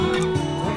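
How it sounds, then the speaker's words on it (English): Backyard chickens clucking in their pen while eating, a few short nasal calls close by over a steady background hum. "So yeah, that's the chickens."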